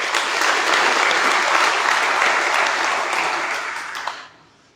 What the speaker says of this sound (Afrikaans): Kom ons gee vir hulle lekker hande klap.